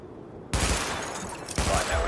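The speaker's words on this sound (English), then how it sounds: "Open fire at the highlighted targets." Gunfire during a weapon test in Tom Clancy's The Division, two loud, close bursts of shots in quick succession after a brief quiet start.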